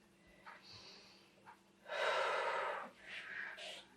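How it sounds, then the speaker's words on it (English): Deep breathing during a Pilates stretch, quiet close inhales and a longer, louder exhale in a calm indoor setting. "deep breath in, deep breath out"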